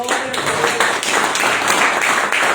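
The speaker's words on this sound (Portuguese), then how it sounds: "Uma salva de palmas para o Senhor." Church congregation applauding and clapping in praise, a dense, steady wash of many hands that stays loud throughout the short stretch.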